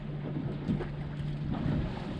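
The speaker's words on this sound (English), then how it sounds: "This wind is brutal." Strong cold wind on a lake with whitecaps buffets the microphone near a fishing boat in a steady rushing roar, with a low constant hum underneath and no talking.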